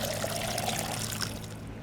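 Water pouring steadily from a sink in the video game Schedule 1, a continuous close splashing trickle that runs for the whole moment before easing slightly at the end, with no talk.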